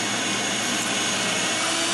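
A vacuum cleaner runs continuously while cleaning a car interior, a loud, even whine and rushing airflow with no talk over it.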